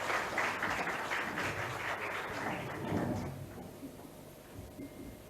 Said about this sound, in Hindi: मैं चाहूँगा पूरे सभी दर्शकों से प्लीज़ हमारे मुख्य अतिथि सर का जोरदार तालियों से स्वागत करें।